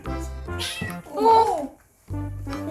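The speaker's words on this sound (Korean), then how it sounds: "고양이 들리나?" A single drawn-out kitten meow rises and falls between stretches of nearby talking, clear and fairly loud.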